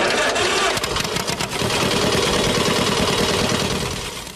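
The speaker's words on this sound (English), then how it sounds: "used a John Deere engine with about 20 horsepower, mainly because he liked the way it sounded" A John Deere engine of about 20 horsepower, taken from a 12A combine and fitted to a homemade miniature tractor, runs loud and close with a steady, rhythmic chugging idle that eases slightly toward the end.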